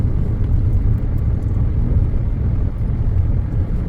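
A car cruising at speed on the Mumbai–Vadodara expressway fills the cabin with a steady, loud low rumble of engine and tyre-road noise that stays constant from start to finish, with no talking.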